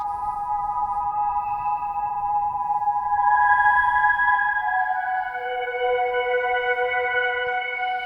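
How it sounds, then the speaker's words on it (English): Synthesizer tones with a slow ten-second filter envelope sweep in a cassette-tape style sound pack, sustained layered notes that gradually shift and resolve into a lower sustained tone, steady and alone. "That's a 10-second filter envelope"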